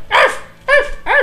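A dog barks three times in quick succession, close and loud, short sharp woofs with brief pauses between.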